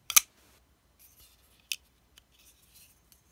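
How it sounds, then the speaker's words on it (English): A North Arm Skaha 2 carbon fiber folding knife snaps shut with one sharp close click at the start, then a few faint small ticks and rubs follow in quiet surroundings. "Again, pretty good closing sound also. North Arm Skaha 2"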